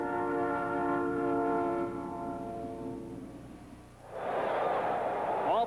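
A Southern Pacific railroad train sounds a long, steady horn blast for about two seconds in a commercial, then fades into the rumbling noise of the train rolling past.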